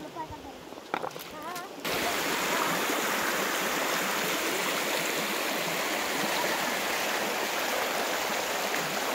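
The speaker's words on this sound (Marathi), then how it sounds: "खळखळणारं पाणी हे कुठल्या नदीचं आहे माहिती आहे? तोरणा नदीचं" Gurgling water of the Torna river near a village field rushes steadily and loudly, filling the scene after a brief quieter opening with faint sounds.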